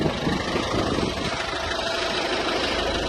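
A crash-repaired Ford Focus MK3 engine idles steadily at close range, a constant mid-to-low engine hum with light vibration running throughout, no voices present.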